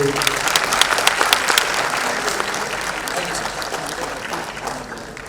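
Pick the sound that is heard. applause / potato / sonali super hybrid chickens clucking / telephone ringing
applause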